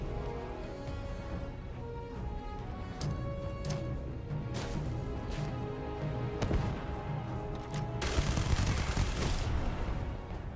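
Rapid bursts of weapon fire from a powerful gun in the sci-fi video game Starfield, loud and sustained over a dense game soundscape with repeated sharp shots and a heavier volley near the end.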